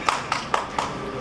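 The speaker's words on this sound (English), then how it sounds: "You don't need to clap every time" A handful of sharp, evenly spaced claps ring out in a hall during a chef's speech at the India Hospitality Champions & Top Brands awards event, four quick hits at a steady rhythm with no talking.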